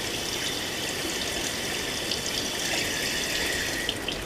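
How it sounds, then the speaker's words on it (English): Water runs steadily from a tap onto open cell foam, giving a continuous close hiss and trickle with no talking. "if you were to take an open cell foam and run it under the water"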